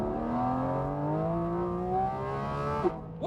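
A Porsche GT3 engine revs steadily upward toward 9,000 RPM, a rising, smooth high-pitched mechanical scream heard from inside the car, sustained for several seconds before a brief blip near the end.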